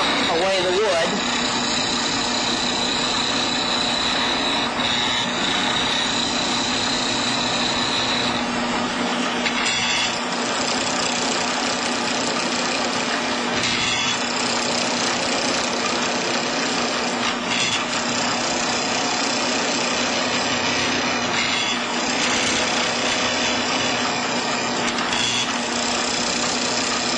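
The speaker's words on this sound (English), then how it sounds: "I'm using a bowl or a spindle gouge here to shear away the wood." A Shopsmith lathe spins a pen blank while a spindle gouge shears away the wood, making a steady, loud motor drone with a continuous scraping hiss that runs unbroken for the whole stretch.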